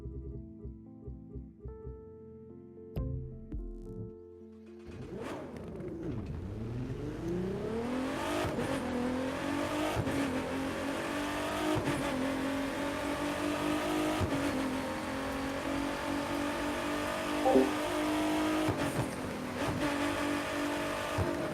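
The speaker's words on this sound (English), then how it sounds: "But there's a car." A car engine revs and rises in pitch, loud and close, then holds a steady droning roar that swells and eases over about twenty seconds, with no talk over it.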